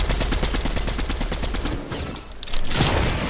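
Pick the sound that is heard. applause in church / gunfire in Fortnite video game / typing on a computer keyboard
gunfire in Fortnite video game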